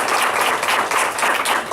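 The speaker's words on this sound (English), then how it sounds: "let's give Tim a nice round of applause" Audience applause for a student named Tim in a classroom or lecture setting, a steady dense burst of many hands clapping close by, filling the whole short stretch without talk.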